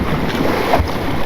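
Steady wind buffets a fishing boat out on the water while anglers fish for tautog off Delaware, a loud continuous rush with no break.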